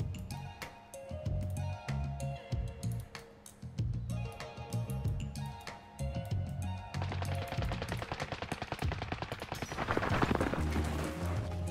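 Rapid bursts of gunfire in the video game Warzone crackle over a busy, layered soundscape, growing denser and louder toward the end, with scattered single shots throughout.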